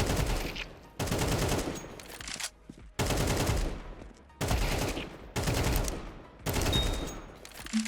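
AK rifle firing in Counter-Strike 2, loud close bursts of rapid automatic gunfire repeated in several strings separated by brief pauses.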